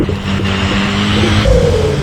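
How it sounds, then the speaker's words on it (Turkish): In Euro Truck Simulator 2, a truck with a newly fitted modified exhaust revs loudly up close. The engine rises into a howling, droning pitch, with no talk over it. "Egzozla taktırdım arabayı daha yeni bak duyuyor musunuz"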